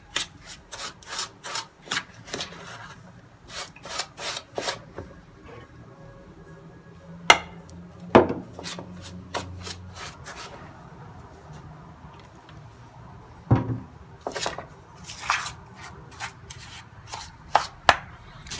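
Butter being stirred into crushed cookies in a bowl, a series of rhythmic scraping and rubbing strokes with crumbly, gritty texture and a few sharper knocks, close and fairly loud, with no speech.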